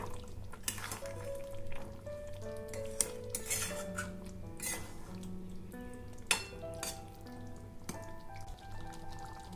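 Dahi chicken being stirred in a pan after half a spoon of garam masala goes in: a spoon scrapes and clinks against the metal in an irregular rhythm, close by, over a steady low hum, with no one talking.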